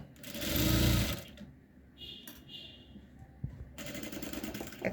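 Sewing machine stitching a crochet baby dress with sleeves, a loud close whirring burst of stitching at the start, then quieter handling noises before the motor runs again steadily toward the end.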